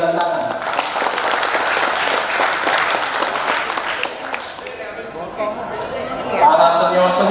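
Audience at a formal Indonesian gathering applauding steadily for several seconds, a dense wash of clapping that eases slightly near the end, with voices chattering underneath.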